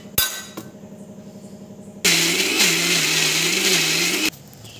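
An electric blender grinding soaked lentils into a paste for a rosbora recipe: a loud, steady whirring burst of about two seconds that cuts off sharply, with clinks and knocks before and after it.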